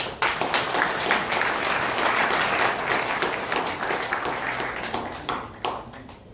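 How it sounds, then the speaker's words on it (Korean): A crowd at a church denomination's public seminar and prayer meeting claps together in a brisk burst of applause that fades unevenly toward the end, with no speech over it. "자, 마지막 박수 한번 쳐보세요."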